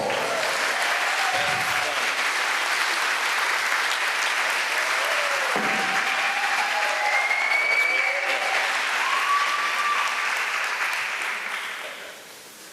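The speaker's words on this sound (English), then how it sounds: "how about some applause?" Steady audience applause at a United Way Elvis tribute show in Wayne County, dense and sustained for about eleven seconds before tapering off at the end, with a few voices and whoops mixed into the clapping.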